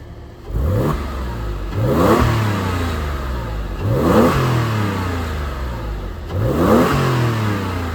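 A 2005 Porsche 911 997 Carrera 2 flat-six engine revs four times in a steady rhythm, each blip sweeping up and falling back toward idle, loud and close with no talk.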